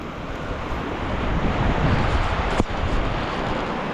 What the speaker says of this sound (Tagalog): Kaya sobrang lamig ng simoy ng hangin.